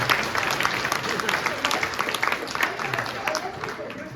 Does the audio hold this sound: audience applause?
yes